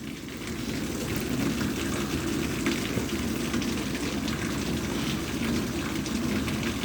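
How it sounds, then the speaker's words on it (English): A heavy downpour pours steadily, water overflowing from a house gutter in a continuous dense hiss and splatter that holds at an even, fairly loud level throughout. "That is just a huge downpour."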